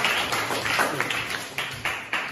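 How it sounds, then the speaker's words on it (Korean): An audience claps together at an evening speech gathering, a brief patter of many hands with sharp, uneven hits that rise and fade over a couple of seconds, fairly close and with no talking over it. "박수 한번 보내주세요."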